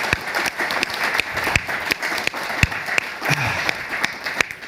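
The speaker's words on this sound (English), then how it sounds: "Special round of applause." A live audience at a telecom industry debate gives a special round of applause, dense and steady clapping filling the room for several seconds, close and fairly loud with sharp individual claps standing out.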